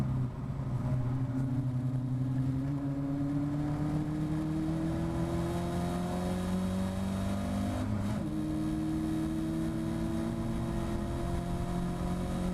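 A Caterham Academy race car at Brands Hatch, its engine droning loudly from close onboard as it pulls along the start-finish straight, pitch rising steadily through a gear, a brief dip at a shift, then climbing again with no talk.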